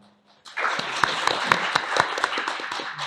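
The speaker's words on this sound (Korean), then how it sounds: "온라인으로도 큰 박수 주셔서 너무 감사드리고요." Audience applause at a medical device forum panel discussion in Korea: after a brief quiet start, a burst of many hands clapping fills the room, dense and steady with a few louder claps standing out.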